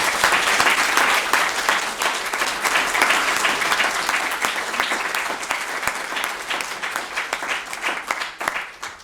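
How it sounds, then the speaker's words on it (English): Sustained audience applause at a talk on a teenage and young adult health service, dense clapping that gradually thins and fades out toward the end. "please join me in giving another round of applause"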